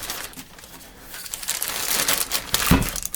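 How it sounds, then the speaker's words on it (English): A big plastic bag crinkles and rustles as a pinball machine power-supply transformer is wrapped in it, heard close up as irregular crackling bursts that grow louder toward the end, with no speech. "we're going to put the transformer into this big plastic bag"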